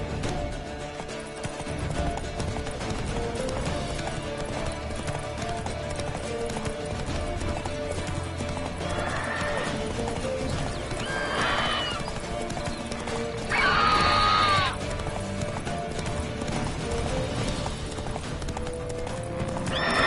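Roach, a horse in The Witcher III, gallops with steady, loud clip-clop hoofbeats over a dense game soundscape, with brief neighs and whinnies rising partway through.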